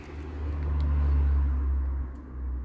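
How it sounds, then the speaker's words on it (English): A car driving past near a roadside where another car sits on a lift for a pre-MOT check, a close, steady low rumble that swells and then eases off, with no voices. "There we go, car's gone past."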